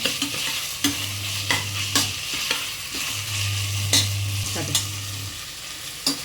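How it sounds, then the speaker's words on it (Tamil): Tomatoes and salt sauté in a pan, giving a steady sizzle broken by repeated sharp scrapes and knocks of a spoon being stirred, with a low steady hum running under parts of it. "கொஞ்சமாக உப்பு போட்டு எல்லாம் ஒன்றா சேர்த்து கலந்து விட்டுருங்க"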